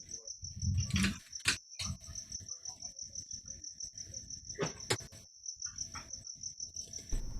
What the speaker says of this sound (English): Does anybody else hear like crickets?